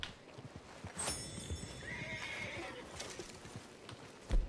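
A horse whinnies loudly in Red Dead Redemption 2, followed by scattered hoof clops and rustling, ending with a heavier thud.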